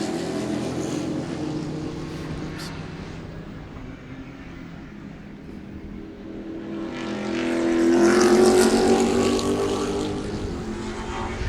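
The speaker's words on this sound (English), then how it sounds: "Here's the two Corvettes," Two Corvette GT race cars roar past at Sebring during a Majors GT race, engines swelling loudly from about seven seconds as they close in, after a steadier mechanical drone.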